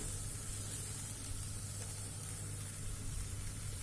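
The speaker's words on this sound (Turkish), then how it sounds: "Şimdi kızdırdığım tavaya krep hamurunu ilave ediyorum bir miktar." Crepe batter sizzling in a preheated pan: a steady, even hiss with a faint low hum underneath, continuous and fairly quiet.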